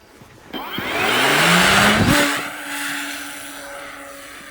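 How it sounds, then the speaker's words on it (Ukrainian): A fixed-wing attack drone passes close by with a rising, whining engine and propeller drone that swells loudly, peaks with a Doppler-like pitch shift, then holds a steady tone as it moves off. "Це БПЛА літакового типу."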